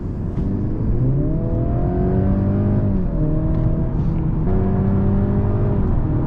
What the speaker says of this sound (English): The acceleration is really great here with the C300